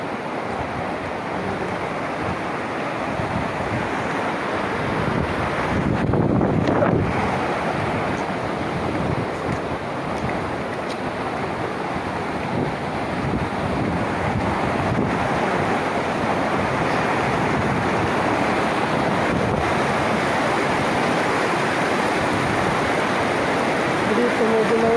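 Strong sea waves wash against a rocky shore in a steady, loud, continuous roar of surf close by, with a brief swell of louder water partway through.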